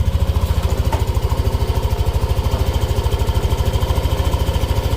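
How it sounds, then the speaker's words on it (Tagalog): A motorcycle engine idles steadily up close, a rapid even low putter with no voices over it. "Tapos syempre paparinig ko yung makina."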